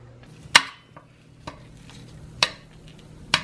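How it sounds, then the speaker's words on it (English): Italian sausage cooking in a pan, with a soft low sizzle under a few sharp, separate clacks of a utensil against the pan, close by and with no talking. "So I'm just gonna cook up the sausage"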